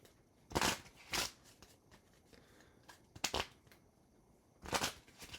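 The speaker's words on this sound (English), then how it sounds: "So don't make me shuffle the cards that I don't have to sleeve." Board game cards being shuffled by hand: four short riffle bursts, crisp and close, separated by quiet pauses.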